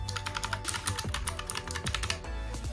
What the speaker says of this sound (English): the Razer Huntsman Mini keyboard. This is my favorite keyboard.